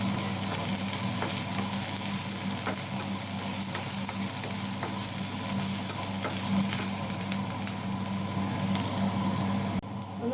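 Onion, green chilli and curry leaves sauté in a pan for a rice-flake snack, making a continuous loud sizzle with steady scraping of a spatula stirring throughout.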